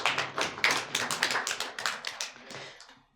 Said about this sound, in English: Please put a gentle round of applause, or give a gentle round of applause to Mr.